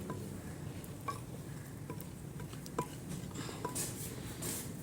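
Faint, sparse clinks and scrapes of a utensil stirring a potato dish in a bowl, a steady low room hum underneath and no voices.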